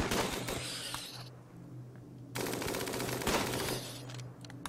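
Rapid automatic gunfire in RimWorld, bursts of crackling shots that stop briefly and then resume with a fast, rattling rhythm, with no talking over them.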